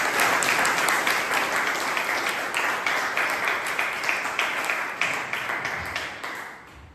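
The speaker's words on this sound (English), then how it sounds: "A big round of applause" Steady applause from an audience at a Toastmasters club meeting, dense clapping that holds strong for several seconds, then thins and fades toward the end.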